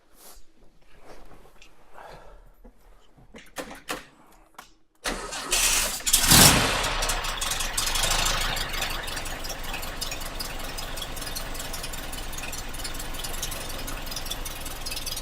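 A 1964 Porsche 356 SC engine cranks and fires after a quiet moment, then settles into a steady, close, continuous idle with a raspy rumble.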